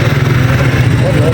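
A motorcycle engine runs loud and close with a steady rumbling drone, near a river crossing on the Sutlej.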